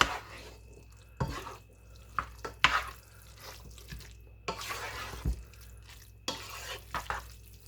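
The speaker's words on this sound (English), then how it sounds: "I'm just going to mix all this together" Ground beef and noodles stirred together in a pot, heard as close, wet squelching and scraping strokes that come in uneven bursts with short pauses between them, and no voices.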